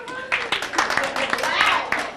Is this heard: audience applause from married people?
yes